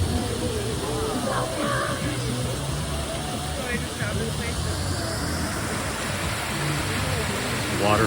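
Steady rushing splash of a ground-jet water feature at a resort's main pool splash pad, continuous and fairly loud, with faint voices and outdoor activity mixed in.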